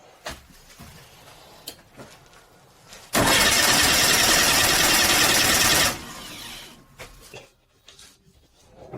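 An old Saab car engine, left in a garage for 30 years, cranks after a few faint clicks and knocks, catches and roars loudly for about three seconds, then cuts out, leaving quiet shuffling noises behind.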